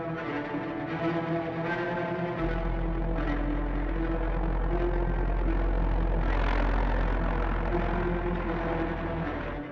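Engines of a First World War Zeppelin airship run steadily at raised revs. The droning propeller roar is loud and continuous, with a deep rumble that strengthens after the first couple of seconds and holds without pause.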